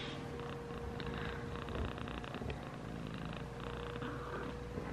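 A domestic cat purrs steadily and close by, a continuous rumbling purr that fills the whole stretch with no talking over it.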